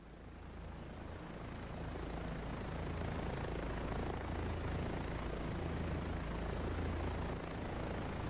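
Mi-24 helicopter rotor and engine drone in a combat video game, a steady broadband roar with a low thudding beat that builds over the first seconds, then holds loud and even, with no voices.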